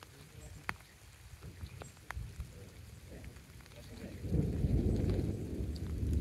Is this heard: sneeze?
no